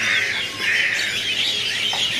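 Caged birds at a market kiosk selling cheap birds chirp in a dense, continuous, bright chatter, close by and fairly loud, with many calls overlapping and no talk.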